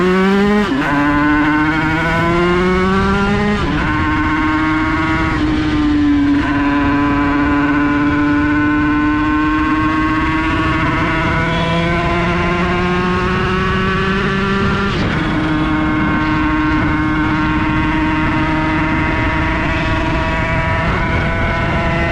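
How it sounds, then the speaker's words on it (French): An MRT motorcycle engine runs loud and steady during a test ride, its pitch climbing and dropping with throttle as the rider shifts. The harmonic drone rises and falls in stepped sweeps, with no talk over it. "On va aller tester pour voir si la moto marche bien."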